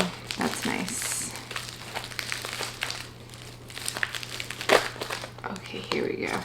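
Thin plastic or tape layer being peeled from the bottom of a small plant pot during repotting, giving close, irregular crinkling and tearing rustles in short bursts throughout, with a sharper crackle near the end.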